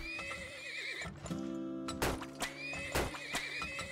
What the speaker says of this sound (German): Ich baue jetzt ganz viele Pferde.